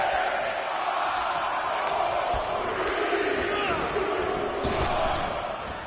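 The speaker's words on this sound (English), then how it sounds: "The crowd is counting it down." A wrestling arena crowd in the WWE 2K23 video game counts down together, a dense, steady roar of many voices with rhythmic swells and occasional thuds running throughout.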